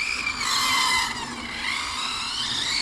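A Hobao VTE carbon RC car brakes hard and skids on a track, giving a sustained high tire squeal and scrape lasting about three seconds, close and loud with no talk.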